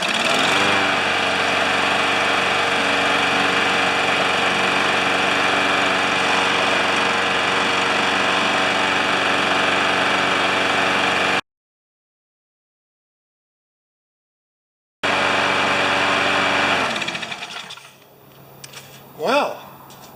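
A Briggs lawn mower engine with an intermittent fault drones loud and steady, cuts out to silence, then restarts and sputters unevenly before dying down.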